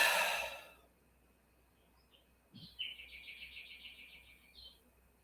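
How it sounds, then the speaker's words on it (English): Birds chirp outdoors at night around 9:30: a short burst of rapid high twittering after an early rush of noise and a soft thump, fairly faint and alone. "I'm hearing birds chirping"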